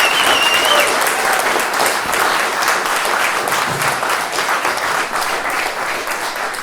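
Sustained audience applause for a live music ensemble at a horror-themed musical show, a dense, steady wash of clapping that fills the whole stretch at close range and tapers slightly toward the end, with a faint voice briefly audible early on.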